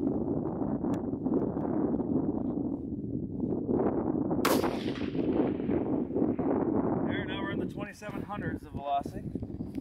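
A single loud 6.8 Western rifle shot fired with a 175gr Sierra Tipped Game King handload outdoors, its sharp crack cutting through wind noise and a voice, then rolling away into a short echo.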